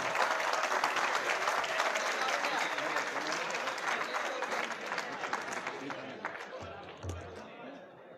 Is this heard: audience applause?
yes